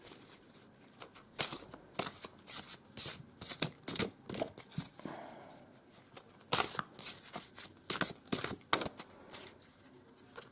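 Tarot cards being shuffled and drawn by hand: a quiet, irregular run of crisp slaps and riffling card clicks in bursts, close and dry, with brief pauses between handfuls.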